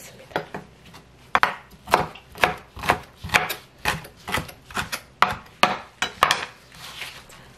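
A knife chops fresh dureup (fatsia shoots) on a cutting board in a quick, steady run of crisp, close thuds, each cut ringing slightly with a woody knock, and no voices.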